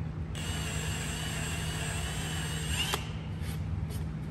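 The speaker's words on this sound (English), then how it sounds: "I'm going to drill into the wood but not all the way in, just a little ways down" A power drill bores partway into a wooden clock piece, its motor whining steadily for about two and a half seconds before cutting off, followed by a few faint clicks.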